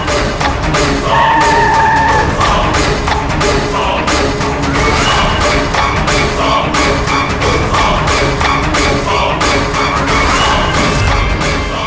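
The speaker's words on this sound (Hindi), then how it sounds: "गाड़ी रोको, साइड में लगाओ।" A car brakes hard and skids to a stop in a TV crime drama scene, a loud, sustained screech with repeated thuds and impacts throughout.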